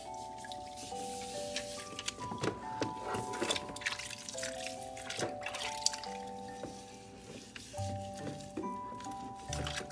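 Water trickling and dripping while a baby doll's feet are washed at bath time, soft splashy drips heard under gentle tonal music playing throughout.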